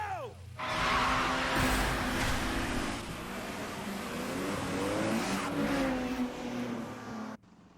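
Race cars start a downhill run in the Initial D anime, engines roaring and revving loudly with pitch rising and falling, tires squealing, steady and close throughout before cutting off near the end.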